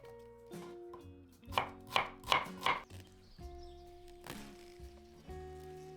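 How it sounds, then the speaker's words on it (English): A knife chops onions into chunks on a board, landing four or five quick, crisp strokes in a row, then one more cut after a pause, in a quiet kitchen. "Cut 2 onions into chunks"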